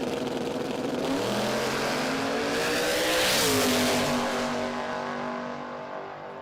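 An EH Holden Radial Extreme drag car accelerating down the strip, its loud engine roaring and rising in pitch as it passes close by, then fading away into the distance.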